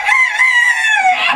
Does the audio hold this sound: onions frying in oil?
no